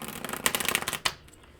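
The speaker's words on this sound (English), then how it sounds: "And let's give these just a couple of shuffles." Hidden Truth oracle cards being shuffled, a quick riffle of rapid papery flutters lasting about a second, close and crisp, ending in a soft snap.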